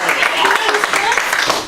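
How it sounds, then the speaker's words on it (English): A classroom of students applauds a team with steady, loud clapping throughout a short burst, with some voices mixed in. "let's give them some applause, please"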